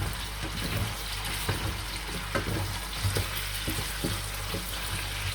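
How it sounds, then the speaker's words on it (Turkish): Diced potatoes frying in a home kitchen pan, a steady bright sizzle with soft intermittent stirring scrapes and clinks throughout. "Şimdi ben bu patatesi ilk öncelikle kavuracağım."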